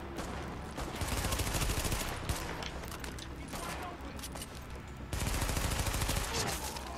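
Rapid gunfire from the shooter video game The Division, dense bursts of shots running almost continuously and loud throughout, with a few heavier volleys; a voice comes in over the shooting at moments.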